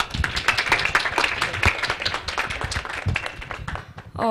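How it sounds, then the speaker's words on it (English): A summit audience claps at a women's leadership event in a brisk, moderately loud round of dense overlapping claps that tapers toward the end. "A round of applause, please."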